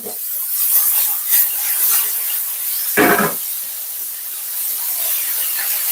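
Butter hits a hot pan of beef and onion, giving a close, hissing sizzle that swells into a short, louder spitting burst midway, then settles back to a steady fry.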